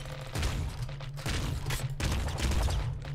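Triple machine gun in Nuclear Throne blasting in rapid, dense volleys, loud and continuous bursts with a brief gap, no talk.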